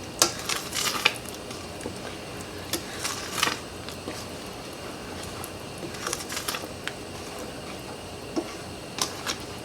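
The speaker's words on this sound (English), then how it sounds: "at this point, we want to stir constantly" A spoon scrapes and knocks intermittently against a pot while tomato herb marmalade made with fresh herbs is stirred constantly, soft clicks and taps close by over a quiet background, no talking.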